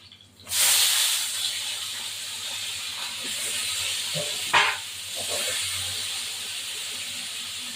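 Potatoes dropped into hot oil in a pan where fish was fried, a sudden loud hiss that settles into a steady, close sizzle with a brief flare midway, no talking.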